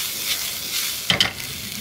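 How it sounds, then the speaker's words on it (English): Garlic and ginger hit hot oil in a pan with shrimp, a steady bright sizzle with a couple of sharp spatters and a brief stirring scrape near the end. "So we get our ginger and our garlic in"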